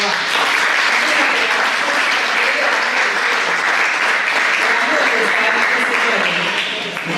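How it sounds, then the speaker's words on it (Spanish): Group of people applauding after a workshop presentation, a steady wash of clapping from a room full of hands, loud and sustained, tapering slightly at the end. "démosles un aplauso"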